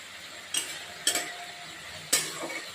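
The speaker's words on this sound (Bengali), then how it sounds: "এখন টমেটো কুচিটা দিয়ে দেব" Chopped tomato goes into a pan with onion and a paste of cumin, ginger, garlic and chili, then gets stirred: a faint, quiet sizzle broken by three short scraping clatters of a spoon against the pan.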